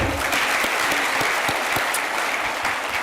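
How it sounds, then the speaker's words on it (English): Gala dinner audience at Nelson Mandela University applauding the Vice Chancellor, a sustained, even round of many hands clapping with individual claps standing out. "Can we clap for the Vice Chancellor once again?"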